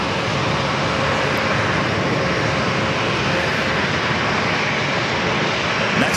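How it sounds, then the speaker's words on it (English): Breeze Airways Airbus A220-300 departing San Diego airport for Raleigh-Durham, a continuous broad jet engine roar at steady loudness throughout, no speech. "Another Breeze Airbus A220-300, this time heading to Raleigh-Durham"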